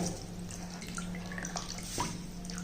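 Water drains from washed pearl millet through a sieve into a pot below, a steady faint trickle with light drips and a brief splash near the end, alone without talk.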